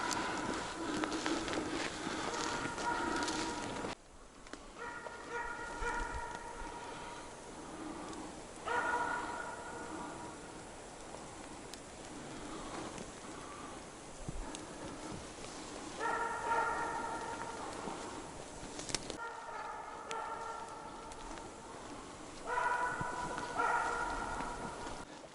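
A dog barks in several short bursts spread across a quiet pine forest during a grouse hunt, with a few sharp yips and pauses of near silence between.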